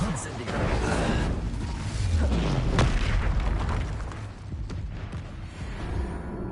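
A fire spell cast in the Hogwarts Legacy game lands as a deep booming burst with a rumbling tail, loud over ongoing game noise and voices.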